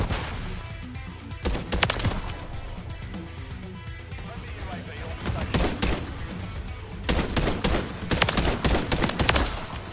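Shooter video game gunfire crackling in repeated bursts throughout, with dense volleys clustering near the start and end, loud and close, while a player talks over the action.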